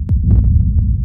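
A deep sub boom hit with convolution reverb sustains a low, throbbing rumble with no gap between the hit and its tail, loud and alone for about a second.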